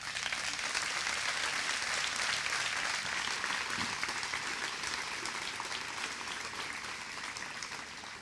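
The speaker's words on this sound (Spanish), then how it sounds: "el único aplauso que quiero pedir en esta intervención es a la gente que ha hecho posible esta escuela, es a los participantes" A large audience at a political school event applauds its organisers and participants, a sustained dense roar of clapping that holds steady throughout and eases slightly near the end.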